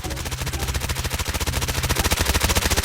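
Rapid automatic gunfire from a gun in the mobile shooter game Call of Duty Mobile, a dense, even stream of loud shots fired without pause across the whole stretch.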